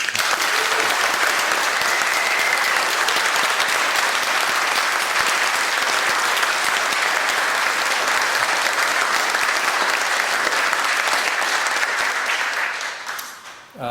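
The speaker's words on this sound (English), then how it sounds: "giving a big round of applause" A large audience at a High Court of New Zealand admission ceremony claps steadily and loudly for about thirteen seconds, a dense sustained applause that fades out at the very end.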